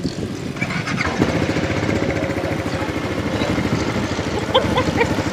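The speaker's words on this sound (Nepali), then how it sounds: "बाइक कुदाउनु रेडी।" A motorcycle engine running close by in Doha, Qatar, with a steady, rough, throbbing idle that continues evenly throughout.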